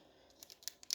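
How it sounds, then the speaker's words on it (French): Scissors snip through the foil of a Japanese card booster pack with several small, quiet crisp cuts in quick succession, close up. "je les ouvre avec un ciseau comme ça"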